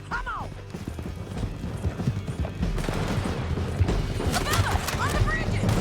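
Horse hooves clip-clopping in the Red Dead Redemption 2 video game, a steady trot under constant game noise with voices, gunfire and crashes mixed in.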